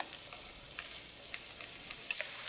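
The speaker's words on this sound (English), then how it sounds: "That's what you wanna hear, that nice sizzle." Salmon fillets sizzle and crackle in a hot pan, a soft, steady frying hiss with small pops, heard close with no voices.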